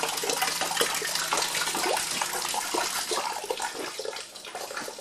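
Water rushes steadily through a stove heating system with pump-driven circulation, a continuous hissing, bubbling flow that stays loud and close throughout.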